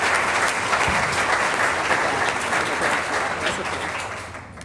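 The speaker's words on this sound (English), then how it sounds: "Let's give them a round of applause, please" Sustained applause from an audience at a tourism awards ceremony, loud and steady throughout, tapering slightly at the end.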